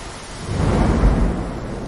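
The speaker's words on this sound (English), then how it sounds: "The wind was howling and the rain was tapping on the windows" A storm sound effect with rain and thunder gives a steady, loud rumbling roar that swells toward the middle of the stretch and then holds, broad and continuous, with no voices.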